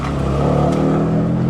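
A BMW M2 Competition on its stock exhaust, set to Sport Plus with manual shifting, revs loudly and close by in one sustained, throaty burst with no talking.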